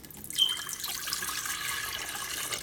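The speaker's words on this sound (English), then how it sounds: "I'm gonna put some water in it" Tap water runs and splashes into an Aicok 1.7 liter electric kettle, a steady close pouring rush that starts abruptly and continues evenly.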